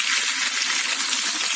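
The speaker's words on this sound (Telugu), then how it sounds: "చికెన్ లాలీపాప్స్ అన్నీ కూడా మంచి గోల్డెన్ బ్రౌన్ కలర్లోకి బాగా ఫ్రై అయిపోతాయి" Chicken lollipops deep frying in hot oil, a dense, steady sizzle that holds loud and unbroken from start to finish, with no voices over it.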